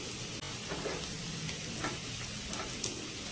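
Chopped onions frying in butter in a pan make a continuous close sizzle, with light stirring scrapes and small pops running over a few seconds.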